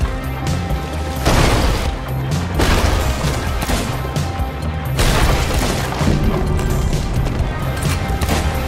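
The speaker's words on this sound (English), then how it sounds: "my crewmate laid into their sloop with cannons" Repeated heavy cannon booms and crashing impacts from a pirate sloop battle in the game Sea of Thieves, loud and dense, with blasts stacking over one another in a continuous barrage and no talking.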